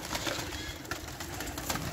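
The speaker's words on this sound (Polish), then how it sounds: "Są bardzo godne gołębie." Pigeons coo softly and flap their wings at close range, a busy fluttering flock in a loft under steady background noise.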